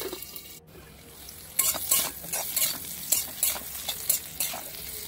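Covered potatoes fry in oil with a bright, crackling sizzle, overlaid by repeated scraping stirs and utensil knocks in an uneven rhythm after a quieter start.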